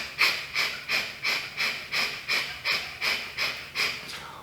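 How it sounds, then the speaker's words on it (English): Breathing during a freediving equalization exercise. About nine short, even breath puffs repeat close to the mic at a quick, regular rhythm. "you can passively exhale and do the same"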